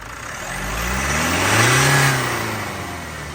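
A 2017 Mitsubishi Montero engine, previously misfiring, revs up from idle, rising to a loud peak, then easing back down, close by with no talk.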